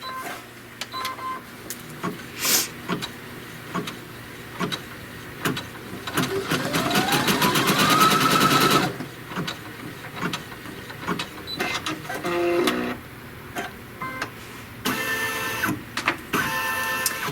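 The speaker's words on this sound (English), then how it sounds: "So it's sewing those two pieces" A sewing machine stitches a seam joining two pieces of fabric, running in loud whirring bursts with rapid mechanical clatter, a long sustained run midway rising in pitch, plus scattered clicks and beeps between runs.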